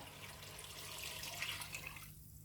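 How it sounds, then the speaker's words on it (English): Beef stock made from cubes and water pours into a cooking pot in a steady liquid stream that tapers off near the end, heard alone and fairly close. "So in goes the stock now"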